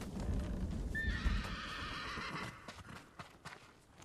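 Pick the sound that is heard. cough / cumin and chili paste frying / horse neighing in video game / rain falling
horse neighing in video game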